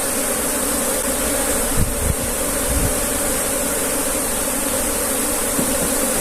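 Honey bees buzz densely around an opened beehive, a loud, constant, close swarm hum that fills the whole stretch with no talk, broken only by a few brief handling knocks.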